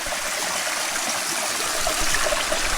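Stream water on a rocky hiking trail rushes in a steady, loud, hissing flow, close by and with no talking over it.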